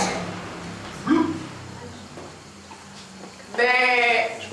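A storyteller's voice imitates a sheep bleating, giving two wavering bleats with a quiet pause between them, close and clear over faint background noise.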